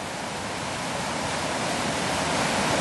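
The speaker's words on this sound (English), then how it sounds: "You can hear the river on our right-hand side." The River Eden runs beside a countryside footpath near Kirkby Stephen in Cumbria, a steady broadband rush of flowing water that holds constant and fairly loud, with no one speaking.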